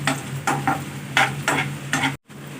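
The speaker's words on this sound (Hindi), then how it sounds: "अब देसी घी में जी डालते हैं अभी बादाम और ये किशमिश, इसको हल्का सा रोस्ट कर लेते हैं" Almonds and raisins roasting lightly in desi ghee for halwa, stirred in a pan: six or so rhythmic scraping strokes over a soft sizzle, close and fairly loud, then a brief cut of silence.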